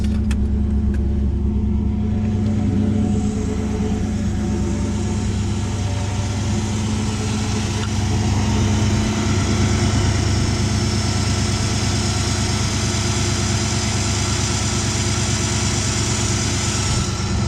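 A Camaro Z28 engine idles steadily and close by after a cold start, a deep continuous rumble with a slight lumpy pulse, unchanging throughout with no voices.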